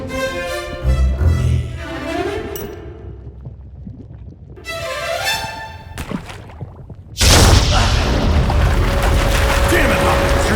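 Grenade exploding inside a volcano in the video game Commando Ninja 2, a deep rumbling boom that bursts in loudly near the end after rising, whooshing game effects and voices.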